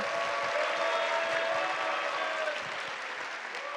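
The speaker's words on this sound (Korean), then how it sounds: "응원의 박수 부탁드립니다" A lecture audience applauds steadily, a dense wash of many hands clapping together for a few seconds.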